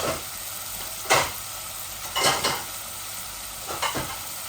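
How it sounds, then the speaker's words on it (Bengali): A rohu fish head fries in a pan of hot oil with a continuous close hissing sizzle, flaring into louder spitting bursts several times as it is stirred or turned. "আমার মাছের মাথাটা বাজা হয়ে গেছে"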